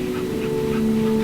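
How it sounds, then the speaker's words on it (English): A dog in the video game That Dragon, Cancer gives a short, soft whimper over a steady background tone, brief and close. "That is a dog."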